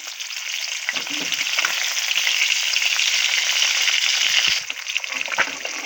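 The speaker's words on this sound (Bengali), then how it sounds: "আর একটু ভাজবো" Koi fish frying in oil in a pan makes a steady, close sizzle and spatter that swells, then eases slightly near the end, with a few soft knocks from stirring.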